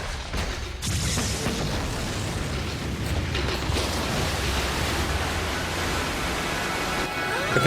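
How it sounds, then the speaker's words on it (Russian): A big wave crashes in with a heavy, rushing roar that surges after a brief quieter start and keeps churning steadily, loud and close. "Капец, она целый океан в него выкинула."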